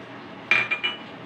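A spoon clinks against a pot as a cumin dish is stirred near the end of cooking, with a few sharp metallic knocks close by over a low background hiss.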